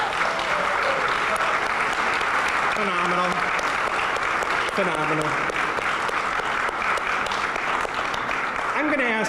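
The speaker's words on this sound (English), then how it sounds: "let's give them another round of applause" An audience at the annual Studs Terkel Awards ceremony gives the award winners a sustained, dense round of applause, while a voice calls out over the clapping.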